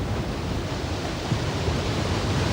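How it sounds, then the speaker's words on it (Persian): Sea waves at night, a steady broadband wash of surf with a low rumbling undertone, close and continuous, with no voices. "اصلا صدای دریا با آدم نشاط میده"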